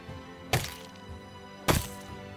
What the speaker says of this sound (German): Sarah, prügelst du gerade auf den Huhn ein?